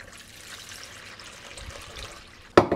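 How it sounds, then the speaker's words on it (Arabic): A litre of water poured for a chicken brine makes a faint, steady trickle that ends in a sharp splash or clunk just before the end. "بحتاج فيه لتر من المية"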